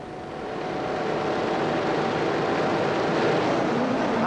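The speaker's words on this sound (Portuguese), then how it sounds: "vamos para o som dos motores" Formula 1 car engines at the 2007 British Grand Prix start, a dense sustained roar of many engines swelling in the first second and then holding steady and loud, with no talk over it.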